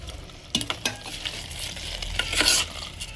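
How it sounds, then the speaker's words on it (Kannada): Soaked rice tipped into a pressure cooker for soppu pulav: a few sharp scrapes and clinks, then a rustling, gritty pour that swells briefly, close and alone. "ಇದನ್ನು ಇವಾಗ ಹಾಕೋಣ ಕುಕ್ಕರ್ಗೆ."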